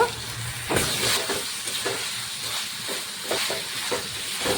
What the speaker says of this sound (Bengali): এবার ভাজা সয়াবিনগুলো দিয়ে দেব।